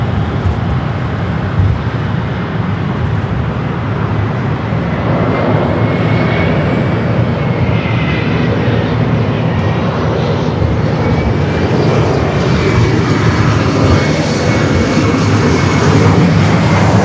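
An SAS Airbus A330-300 taking off at Los Angeles International Airport, its jet engines giving a steady, loud roar that swells gradually as the aircraft climbs, heard from a distance with a faint higher whine over the rumble.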